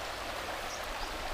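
River water flows steadily in a continuous broadband rush, faint and even throughout, with no voices.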